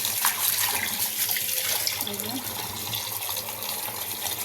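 Tap water runs steadily while fish is washed with salt in a sink, close splashing and rinsing with some brief talk over it.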